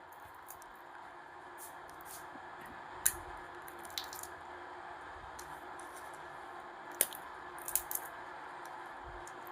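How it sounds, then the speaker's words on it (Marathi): Grated radish being washed by hand in a bowl of water, with soft continuous squishing and sloshing and a few sharper splashy clicks, close and fairly quiet. "पाणी टाकून मुळा स्वच्छ धुवून घ्यायचा आहे"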